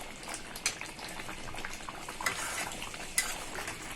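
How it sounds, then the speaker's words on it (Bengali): Beef kala bhuna gravy bubbles and sizzles in a pot over high heat while a utensil stirs it, with occasional sharp scrapes and clinks against the metal and a steady simmering hiss underneath. "এইভাবে নেড়ে চেড়ে আমি ঝোলটা ভালো করে শুকিয়ে নেব"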